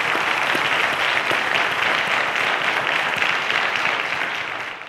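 A studio audience at a televised quiz competition applauds loudly and steadily, a dense, sustained wash of clapping that holds throughout and tapers only slightly at the very end.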